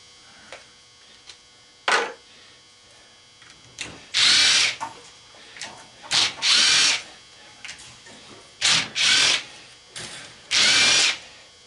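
A power drill fitted with a deep socket whirs in short, loud bursts of about a second each, several spaced apart with brief pauses and faint clicks between, close up.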